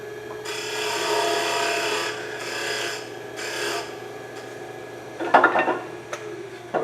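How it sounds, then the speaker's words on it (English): A wooden pepper mill part turns on a lathe as the cutting tool rasps against it in sustained scraping passes broken by short pauses, then a few sharper knocks and scrapes, close-up with no talk. "But I can cut one really quick here since that one's on the lathe."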